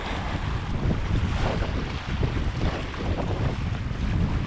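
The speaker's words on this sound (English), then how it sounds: "Whitecaps on the lake, a lot of wind." Strong wind buffets the microphone over choppy whitecap waves on a lake in the boreal wilderness, a steady loud roar of gusts and breaking water with no talk.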